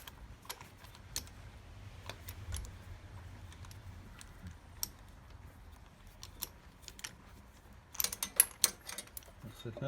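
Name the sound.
ratchet spark plug socket removing spark plug, Yamaha XVS 1100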